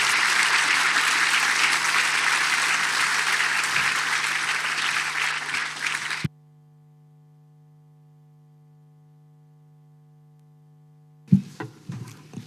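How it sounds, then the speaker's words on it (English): Forum audience claps for a panel of speakers, a full burst of steady applause that stops abruptly halfway, leaving only a low electrical hum before a few scattered sounds return at the end. "Please, a round of applause for such"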